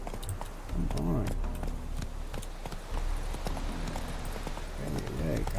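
Hoofbeats of the horse Roach in The Witcher 3 as it is reined in, a rhythmic clip-clop over a loud, steady game background, with someone talking over it.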